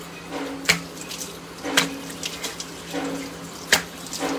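Someone rinsing their face at a sink, with running tap water underneath and a few distinct splashes as water is cupped and thrown onto the skin, close by and with no talking.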